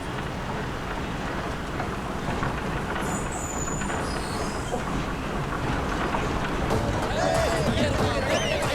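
A train pulls out at a station during a comedy scene, its broad rumble and rail noise running steadily throughout, with voices and shouts of farewell over it.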